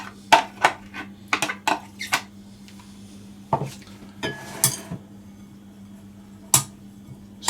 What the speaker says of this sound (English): you're going to use a knife to just work it into the flour